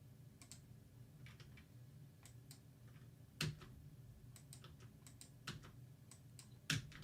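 Faint, sparse tapping on a computer keyboard that feels a bit worn, with irregular light key clicks spread out and a few sharper, louder presses standing out against a quiet background hum.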